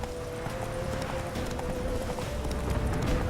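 A horse's hooves clip-clop at a steady trotting rhythm in the video game The Witcher 3: Wild Hunt, set against dense ambient game sound and music, fairly loud and continuous.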